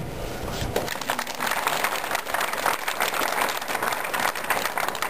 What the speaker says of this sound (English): I'd like to get a big round of applause after the next 5 things I say.